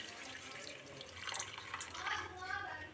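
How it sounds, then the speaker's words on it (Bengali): Hot water is poured into a pan of paneer masala curry, giving a soft, brief splashing trickle heard faintly and close, with a quiet background hiss. "এবার পনিরটা দিয়ে দেব। সামান্য গরম জল ঢেলে দেব।"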